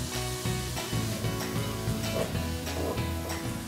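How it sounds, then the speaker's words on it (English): Vegetables sauté in a pan over medium heat, a steady close sizzle with faint stirring scrapes and occasional crackles, continuous and even throughout. "we want to saute this probably about 10 minutes"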